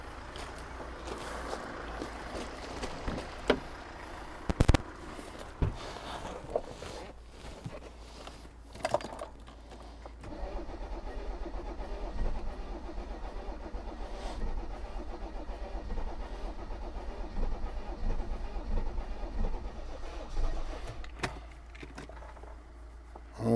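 A Mercedes W124 turbo diesel wagon with fuel problems cranks on a weak battery. Keys jangle and a few sharp clicks come first, then a low, steady mechanical rumble holds close and continuous.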